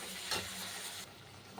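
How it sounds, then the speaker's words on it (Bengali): Pointed gourd, potato and prawns sautéed in hot oil, a close, steady sizzle with a couple of brief scraping stirs, the frying hiss softening slightly partway through. "এবার এই পটলটা, আলুটা আর চিংড়ি মাছটা দিয়ে দিলাম। একটু কষিয়ে নিই"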